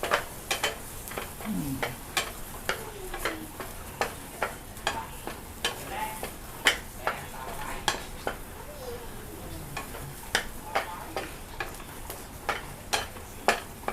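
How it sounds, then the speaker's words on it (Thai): Ingredients for an Isan-style eggplant soup are dry-roasted in a pan, with a spatula scraping and tapping in a steady, regular rhythm over a low background hiss, close by and without talk. "คั่วให้สุกนะคะ"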